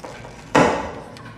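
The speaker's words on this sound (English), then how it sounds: "Sounds like somebody chopping carrots or onions or something like that." A single sharp chop, like a knife striking a cutting board, followed by a brief fading tail and a faint second tap, from the video game Little Nightmares II.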